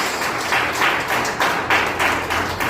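A church congregation clapping in praise, steady rhythmic group handclaps in a room, fairly loud and continuous for a few seconds.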